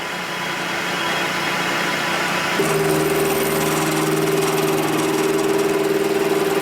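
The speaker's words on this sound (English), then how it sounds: "Put the carbide bit in here so I can spin the piss out of it." A lathe runs with a steady mechanical drone, then spins up with a carbide cutting bit turning metal on a Harley Sportster stroker engine build, settling into a loud, even whine with sustained tonal ringing, no voices.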